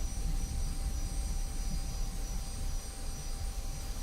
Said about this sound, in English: We got a Harrier jump jet to our starboard.